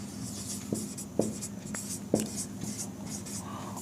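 Pen scratching across paper while a math proof on real numbers is written out by hand, steady close strokes with a few sharper taps as words are finished, quiet throughout.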